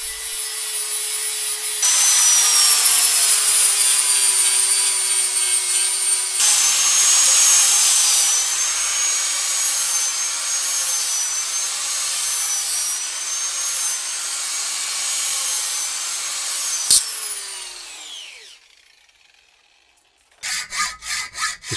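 A steel bar is sawn in half by hand for a forged rapier, with a bright, steady rasping whine that runs in long sustained passes, then fades out, followed by a few short scraping strokes.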